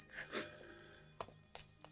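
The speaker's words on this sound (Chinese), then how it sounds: "小去接电话啊" A telephone bell rings indoors in a Chinese drama set in the early reform-and-opening era, with a short burst of bright trilling tones near the start followed by a few sharp knocks and clicks.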